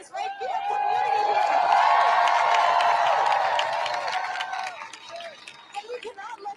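A crowd of protesting students fills the air at a pro-Palestine encampment at UCLA, a sustained roar of voices and cheering swelling and then thinning out, with scattered whoops near the end.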